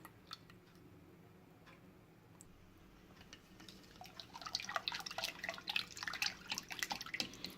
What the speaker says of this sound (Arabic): دابا غنضيف الحليب.